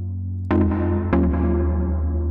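A synth pluck playing a chord progression in a K-pop girl-group style production: two bright, sharp chord attacks about half a second apart, each ringing on with a sustained, fairly loud decay.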